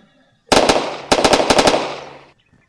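Bursts of automatic gunfire in The Dead Inside video game, loud and close: one short burst, then a quick rhythmic string of shots trailing off into a fading tail, with no talking.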